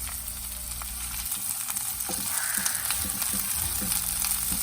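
Chopped onions and tomatoes sizzle steadily in a hot pan for a homemade chicken burger filling, with a constant frying hiss and soft scraping stirs near the end, close and moderately loud.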